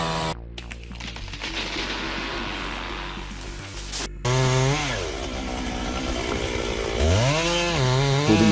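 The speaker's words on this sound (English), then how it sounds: "holding a chainsaw at a height that makes me shiver" A chainsaw cutting into a tree, loud and close, its engine buzzing steadily and then revving up and down in pitch as the blade works through the wood.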